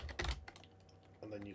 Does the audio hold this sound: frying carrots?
no